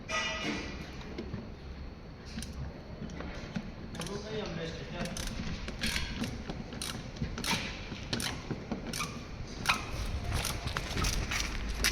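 Screws being driven to fasten rear mud flaps on a Volkswagen Polo, heard as faint clicking, ratcheting and creaking tool noises over a low background hum, close by and without speech.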